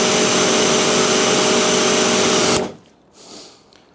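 AVA pressure washer running on a 30 metre extension hose, a loud steady close-up roar of motor and spraying water for over two seconds, then cutting off abruptly to near quiet with a brief soft noise.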